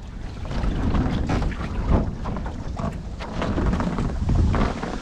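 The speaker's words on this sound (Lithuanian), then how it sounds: "Ateina gūsis, ateina gūsis." Strong wind gusts rush across the microphone at a beach during windsurfing, a steady broad roar swelling and easing over the full span with water and board noise underneath, loud and close with no talk.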